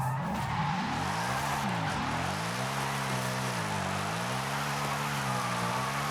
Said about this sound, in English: Alright, so we're drifting before we start.